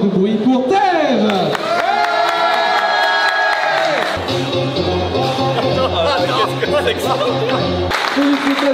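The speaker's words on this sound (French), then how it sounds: "Un tonnerre d'applaudissements et beaucoup de bruit pour Tev" A stage crowd cheers and applauds a performer at a competition held in a supermarket, a loud, dense wash of clapping and whoops running steadily throughout, with music-like tones sliding beneath.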